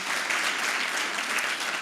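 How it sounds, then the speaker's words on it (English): Audience applause for a professor after a design lecture, a dense, even wash of many hands clapping with no voices over it. "could we all please show our applause to Professor Page?"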